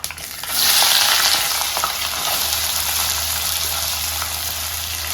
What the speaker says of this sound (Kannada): ಈರುಳ್ಳಿ ಹಸಿಮೆಣಸಿನಕಾಯಿ ಎರಡು ಹಾಕ್ತಾ ಇದ್ದೀನಿ